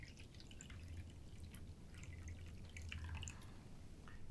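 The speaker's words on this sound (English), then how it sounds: "First, we pour the fourth and final cup of wine." Wine poured into a cup at a Passover seder, a quiet, close run of dripping and trickling liquid sounds over a few seconds without speech.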